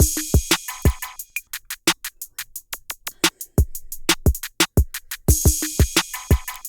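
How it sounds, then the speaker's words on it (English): A simple kick drum pattern in a Detroit-style beat: punchy, evenly repeating low thumps layered with crisp hi-hat ticks and occasional chord stabs, loud and upfront with no voices. "after that I added some kicks"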